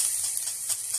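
Tomatoes and garlic hit a hot pan and sizzle steadily, a dense, continuous hiss with faint stirring rattles underneath.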